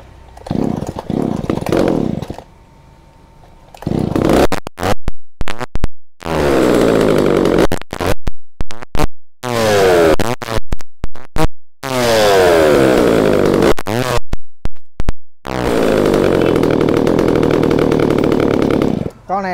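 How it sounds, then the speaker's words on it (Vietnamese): A 29cc short-handle chainsaw is pull-started: several rough cranking pulls, then the engine catches and runs loud and close, revving and idling in surges with brief gaps. "Rồi em giật thử cho anh em nghe cái tiếng máy."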